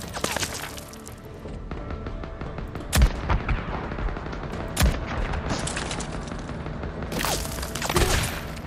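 Gunfire in the zombie-survival video game Days Gone, with sharp gunshots at about 3, 4.8 and 7.2 seconds standing out against a dense, continuous din of combat noise.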